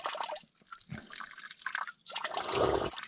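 Water runs from an outdoor spigot in Bulgaria with a close, uneven splashing and trickling flow that breaks off briefly near the middle before picking back up, heavier and more steady toward the end.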